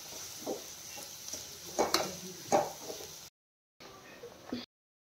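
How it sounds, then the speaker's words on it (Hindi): Vermicelli (semiya) sizzles softly in hot oil as a utensil stirs and scrapes the pan, with close, irregular bursts of stirring before the sound cuts out briefly and returns. "ऑयल के साथ थोड़ा सा सेमिया को भी हमें फ्राई करना है"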